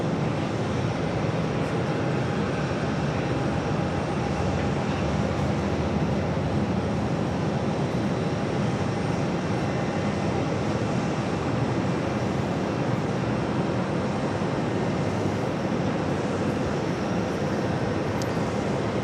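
Steady, continuous jet engine roar from an airplane at JFK airport, a broad even rumble and hiss that holds unchanged for the whole stretch, fairly distant, with no voices.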